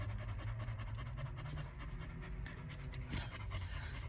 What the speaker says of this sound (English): My dog is being a rascal today